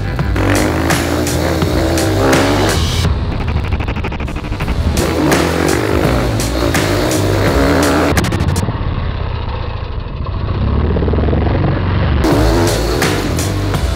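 A motorcycle engine revs hard and close, rising and falling in repeated bursts of throttle with short easing-off moments between, in second gear on a small jump.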